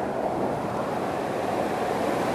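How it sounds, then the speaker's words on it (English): A big, fast-rushing waterfall in Valdez, Alaska roars with a dense, continuous wash of water, loud and close, steady from start to finish with no voices. "That's a big waterfall, it's a very fast waterfall, and that's a nice waterfall."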